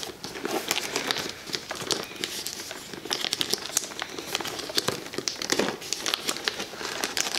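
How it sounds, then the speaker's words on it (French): Plastic wrapping crinkles and crackles as it is pulled and worked off a Yankee Candle advent calendar, irregular close-up rustling bursts continuing throughout. "Je sais pas si je vais arriver à enlever le plastique"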